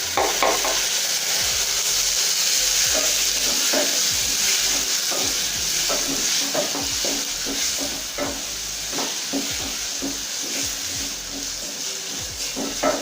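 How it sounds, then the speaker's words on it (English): Tomatoes being stirred into beef stew for matoke, with steady frying sizzle and repeated scraping stir strokes throughout, close and fairly loud, with no voices. "So at this point I'm going to add my tomatoes."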